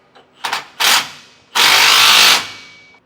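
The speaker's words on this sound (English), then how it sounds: "then we can take our drill again and run those down" A power drill runs bolts down on an anti-sway bar bracket under an RV frame: two brief bursts followed by one longer whirring run, loud and close.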